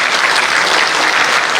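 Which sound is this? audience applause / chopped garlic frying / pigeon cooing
audience applause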